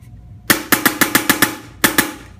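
Wolverine Spartan Edition airsoft gun firing: a quick burst of about six sharp snapping shots at a fast even rhythm, a brief pause, then two more shots, all close and loud with no talking.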